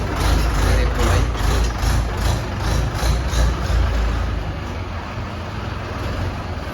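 Engine of a Mahindra 585 tractor, newly back from its first service, running nearby with a steady low rumble and rhythmic pulsing throughout, with no talk.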